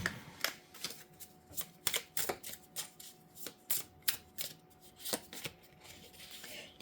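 Kipper fortune-telling cards being shuffled by hand, a close, quiet series of crisp riffling flicks and slaps in an uneven rhythm, with no talking.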